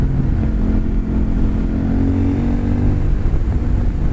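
A CF Moto 800NK motorcycle on a road test runs with a loud, continuous mid-pitched engine drone, close by and steady throughout.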